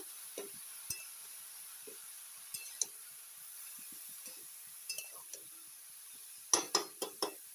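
A spoon clinks and scrapes against a metal pot while bottle gourd is stirred at home, with sparse soft knocks followed by a cluster of sharper metallic clatters as a lid goes on near the end.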